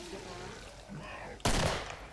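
Gunfire in the Killing Floor co-op shooter game, a sudden loud burst of rapid shots near the end after quieter game ambience and faint talk.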